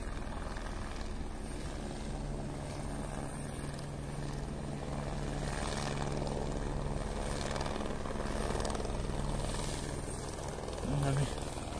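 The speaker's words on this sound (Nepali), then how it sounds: "उताबाट हेलिकप्टर आएछ काठमाडौँबाट धर्मावलम्बीहरूको लागि" A helicopter flying from Kathmandu to the Gosainkunda trek area drones steadily at a distance with a faint, continuous rotor hum, while people talk nearby on the mountain trail.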